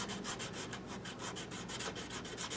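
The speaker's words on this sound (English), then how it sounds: "with a little rusty screw like this, I got a little piece of sandpaper right here. Sometimes you can just kind of sand it down a little bit" A small piece of sandpaper scrubs a rusty screw on a 1982 B.C. Rich Bich guitar, a quick run of rhythmic, close, quiet rasping strokes repeating evenly back and forth, with no talking.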